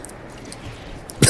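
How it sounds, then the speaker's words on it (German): A single sharp cough bursts out near the end, close and loud, after a stretch of quiet room tone during a German Let's Play of Dishonored. "jetzt muss ich husten auch noch."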